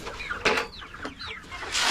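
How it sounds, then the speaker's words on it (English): Orpington and Jubilee Orpington chickens in a homestead coop, a few close, short clucks and chirpy calls over low background noise. "If you look at that Orpington rooster there and the Jubilee Orpington over there"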